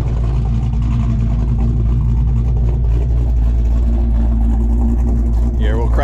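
A car with a full 3-inch exhaust and an X-pipe over the axle drones in a loud, steady, deep rumble close by, idling and revving without a break, while voices are heard over it.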